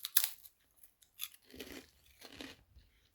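Someone bites into a crispy apple-honey galette snack and chews it close up, with a sharp crunch followed by several softer crunching chews.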